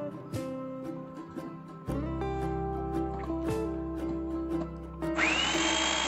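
A Preethi Zodiac mixer running its slicer blade through large onions whirs steadily and close, with knocks and clatter as pieces drop, the motor pitch stepping up partway through and a high whine starting near the end.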